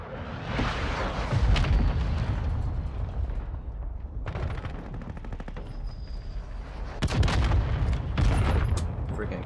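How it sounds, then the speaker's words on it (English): Claymore mines exploding in Call of Duty Modern Warfare 2, heavy booming blasts mixed with rapid gunfire in a chaotic multiplayer firefight, loud and close, with several bursts spread across the stretch. "Claymores, bro."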